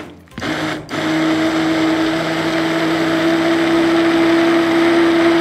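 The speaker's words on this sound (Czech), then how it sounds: "tyčovým mixérem ty hrášky rozdrtíme" A stick blender purées cooked green peas with mint, its steady high motor whine starting abruptly after a short pause and running loud and constant to the end.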